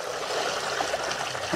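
Water pours steadily over snails being washed with turmeric in a village kitchen at night, a loud, continuous splashing rush heard up close with no talk.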